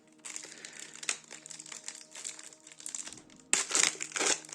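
Plastic packaging on a Keyforge card deck crinkles and crackles close by as it is opened, with a burst of louder crumpling near the end.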